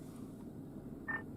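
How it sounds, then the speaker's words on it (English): A short electronic beep tone sounds on a phone inside a storm-chasing vehicle during a violent Texas supercell, rising briefly over a steady background rumble. "And Garrett, is that what that loud beeping noise on my phone was?"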